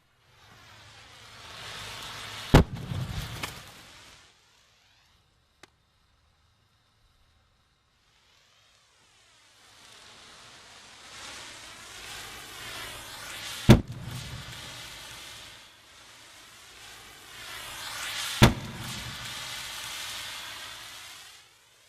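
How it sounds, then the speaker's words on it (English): Hydrogen-filled bags igniting in turn, each a sharp crack followed by a few seconds of rushing, crackling burn, three bursts separated by quiet gaps. "It turns out that the burning hydrogen is not quite enough to penetrate the nearby bags"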